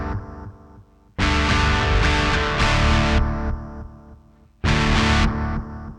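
Electric guitar played through a 41-year-old modded Boss DM-3 analog delay pedal: loud, bright, distorted strums burst out in separate phrases, each trailing off into softer, darker repeats.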